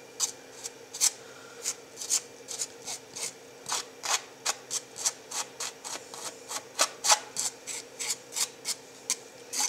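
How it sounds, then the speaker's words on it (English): A palette knife drags textured acrylic paste across a canvas in quick repeated strokes, about two per second, each a gritty rasping scrape, close and steady without speech. "I'm just gonna scrape it on here for a little bit of added texture, just in some random places."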